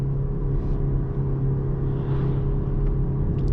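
A 2025 BMW M235 Gran Coupe engine hums as a steady, loud low rumble, holding an even drone throughout without clear breaks or sharp revving.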